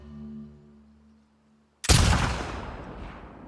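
A single loud sniper rifle gunshot in The Last of Us Part 2 cracks out after a quiet, low humming stretch, its boom trailing off into a decaying echo.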